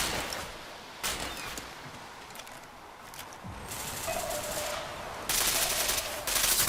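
Gunfire in the online shooter Tom Clancy's Ghost Recon Phantoms, with sharp reports and rattling automatic bursts amid loud battle noise that intensifies toward the end.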